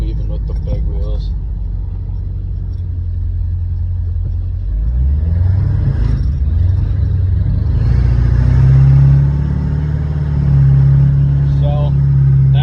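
A car fitted with wide 14-inch wheels makes a slow turn-around, its engine rumbling low and steady throughout, rising and revving slightly midway, with a person talking over it.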